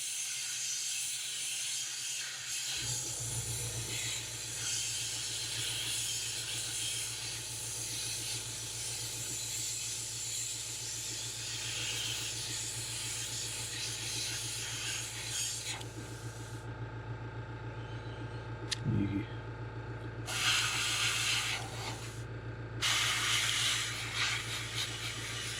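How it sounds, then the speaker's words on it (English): Aerosol or airbrush paint hisses in steady bursts over a fishing lure, a close, continuous spray with a few short pauses and restarts, no talking. "So again, just spraying on the inside edge."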